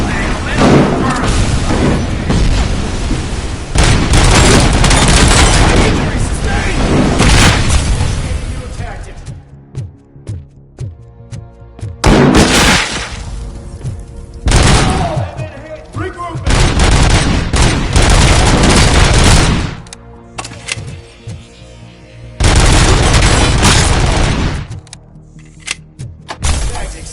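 Cobra cannon blasts and explosions in RoboCop: Rogue City: heavy, booming shots come in long, loud bursts separated by brief quieter gaps, with voices heard between them.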